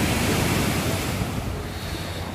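Rough, choppy sea with waves surging and breaking continuously, a loud broadband wash with wind buffeting the microphone, no voices.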